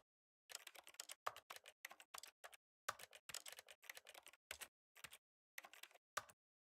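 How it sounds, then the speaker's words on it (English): Rapid keyboard typing from the video game The Stanley Parable, clattering in quick bursts of keystrokes separated by short pauses, close and clear with no talking. "This is such a satisfying sound. It sounds like keyboard."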